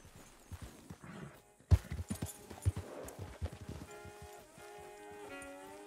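Horse hooves clip-clop in Red Dead Redemption 2, with a steady walking rhythm of close, moderately loud hoof strikes under game music and ambient sounds.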